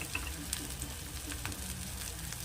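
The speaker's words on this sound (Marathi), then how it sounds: "तेलामध्ये छान असं परतून घ्यायचं" Masala sautéing in hot oil for a pumpkin sabzi, a steady soft sizzle close by with faint stirring scrapes, no talking.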